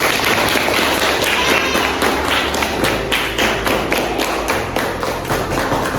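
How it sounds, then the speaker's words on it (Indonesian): Students in a classroom applaud after a group presentation, with loud, dense clapping mixed with thumps and taps against a noisy room background. Voices murmur throughout. "mari kita beri tepuk tangan untuk kalian semua."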